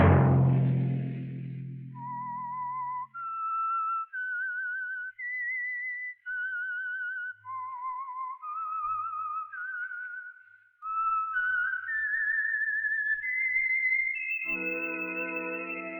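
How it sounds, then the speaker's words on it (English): A lone whistler carries a slow, wandering tune of clear sustained notes, the signature melody of The Whistler radio program, before a brief orchestral chord swells in at the end. "Let that whistle be your signal for the Signal Oil program, The Whistler"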